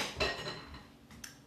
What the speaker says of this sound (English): Yep, that was my dishes.